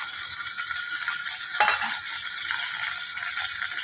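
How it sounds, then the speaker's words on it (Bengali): White cooking oil goes into a still-wet wok, giving a steady sizzling crackle with one sharper splash-like burst near the middle and faint utensil clinks. "এবার তেল দিয়ে দিলাম, সাদা তেল দিয়ে রান্না করবো"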